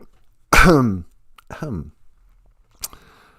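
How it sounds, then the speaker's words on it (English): Two sharp, close coughs, the first louder than the second, followed by a short click after a pause. "This is the vampire cough. Got a cough in your sleeve now."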